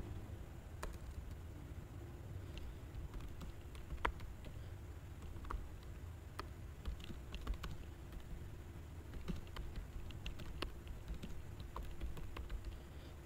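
Sparse, light keystrokes on a computer keyboard entering a property address into an online tax return form, faint scattered clicks over a steady low background hum, with no voices.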